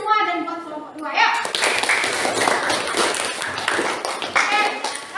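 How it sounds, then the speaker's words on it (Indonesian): Group clapping in a classroom for a student group, a burst of many hands that starts about a second in, following a voice and continuing with scattered speech over it. "kita tepuk tangan buat kita semua dan buat kelompok 2 ya"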